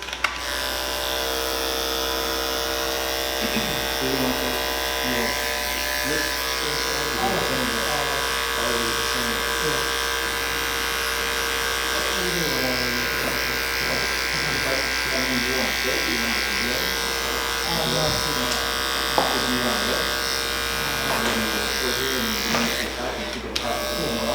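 An Andis ProClip AG2 clipper with a 0A blade buzzes steadily up close while cutting hair in a high skin fade, with a person talking over it throughout.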